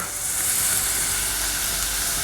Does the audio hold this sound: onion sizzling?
yes